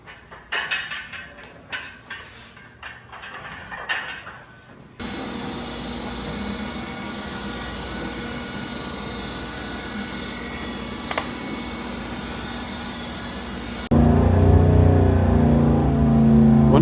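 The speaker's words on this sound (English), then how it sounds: "Once we got the engine started, Evan ran it through a break-in cycle on the" An all-aluminum 427 Chevy V8 runs on a dyno: a few uneven bursts, then a steady loud roar with a constant mechanical whine, rising suddenly to a heavier, louder run near the end.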